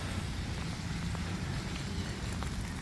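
Steady rain falling outdoors around garden plants, flowers and trees on a morning, a soft continuous patter with a few faint drop ticks and no voices.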